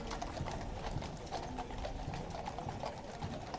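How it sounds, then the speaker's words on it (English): King's Guard horses, including a rare white horse, parade at a royal ceremony for King Charles, their hooves clip-clopping steadily on hard ground in a brisk, continuous rhythm, clear and fairly close, with faint crowd murmur behind. "So it's super rare that you get to see this white horse here."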